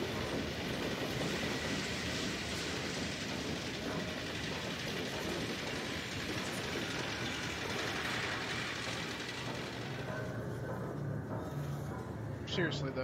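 A train in Half-Life 2 rattles along its rails with a dense, continuous clatter and rumble that stays loud throughout. Someone talks over it, and a faint squeal comes near the end.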